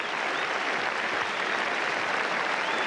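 A packed Headingley cricket crowd applauds Alan Knott's century in the 1976 England v West Indies Test, a dense, continuous wash of clapping at steady loudness throughout.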